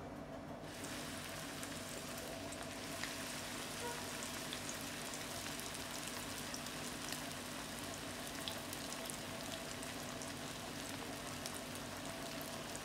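Bread slices for shahi tukda fry in hot oil, giving a steady, close sizzle and crackle that carries on evenly with no voices.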